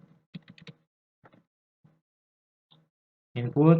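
Short bursts of keystrokes on a computer keyboard while an iptables command is typed in a host firewall lab, a few clustered clicks then sparse single taps, close and quiet, ending as a voice begins speaking.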